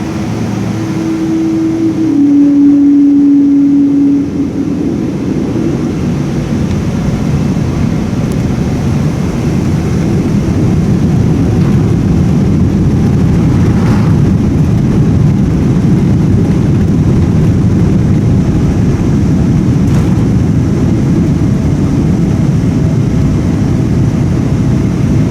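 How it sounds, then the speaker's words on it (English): ANA Boeing 777-200ER taking off from Narita Airport, heard from inside the cabin: a loud, deep, continuous engine roar that swells during the takeoff roll and climb, with a brief tone near the start. "So the plane has taken off from Narita Airport safely."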